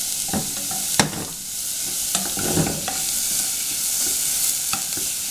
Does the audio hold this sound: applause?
no